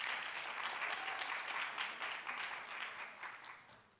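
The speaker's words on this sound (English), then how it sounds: "Everybody, round of applause, come on." A crowd at a youth pitch event claps as a guest is invited on stage. The applause is soft and distant-sounding, steady at first, then tapering off toward the end.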